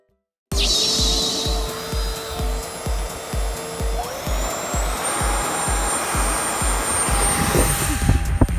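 A Nausicaä Möwe model plane on its first flight buzzes steadily outdoors amid golden bushes, its motor whine rising in pitch partway through and holding, loud and continuous with a rhythmic low thumping underneath.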